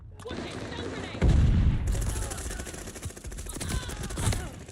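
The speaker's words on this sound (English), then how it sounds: "Watch it, stun grenade." Stun grenade going off in a first-person shooter game, a sudden loud blast followed by a high ringing tone, with bursts of gunfire crackling around it before and after.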